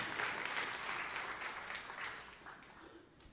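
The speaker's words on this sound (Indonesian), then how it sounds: "Tepuk tangan yang meriah untuk kemuliaan Tuhan." Church congregation applauding during a sermon, a steady wash of clapping that is moderately faint and gradually tapers off toward the end.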